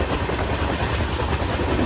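Darshan Express train picking up speed, a steady loud rumble of wagons on the rails with a faint rhythmic clatter, heard from inside and with no talk.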